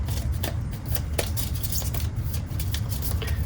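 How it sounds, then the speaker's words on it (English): A fate deck of cards for the Villainous board game is shuffled close up in a quick run of papery riffles and soft snaps, steady for a few seconds. "However, I do need to shuffle the fate deck and put him back in there. So let's do a quick shuffle."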